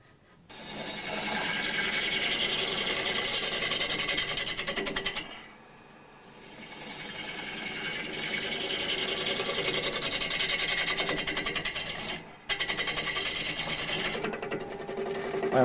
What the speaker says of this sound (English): I am now shaping up the outside of the bowl.